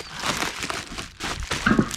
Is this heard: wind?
no